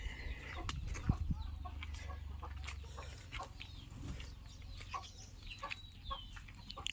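Hens on a poultry farm cluck in scattered bursts with brief squawks, near and fairly soft, over a low continuous hum, and no one speaks.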